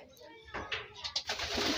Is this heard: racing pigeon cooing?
yes